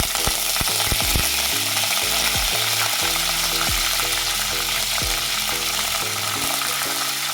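Curry leaves dropped into hot oil with asafoetida and bay leaves for a spicy sprouted moth bean curry crackle and sizzle loudly, with sharp pops over a continuous close frying hiss.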